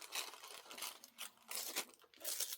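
Scissors cutting a paper art print in half, producing a few close, quiet crisp snips and crinkles in short bursts, alone.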